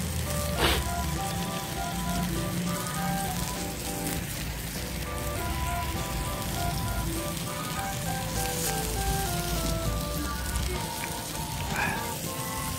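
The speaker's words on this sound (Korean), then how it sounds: "지글지글 소리 좋죠" Pork belly sizzles steadily and loudly on a hot stone plate, a dense continuous crackle with a few sharper pops, no talking.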